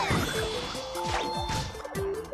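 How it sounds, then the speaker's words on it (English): Star bits fired at enemies in Super Mario Galaxy 2, a string of quick descending whooshes and bright chiming hits landing in rapid succession over a faint background. "Shoot star bits at enemies to stun them."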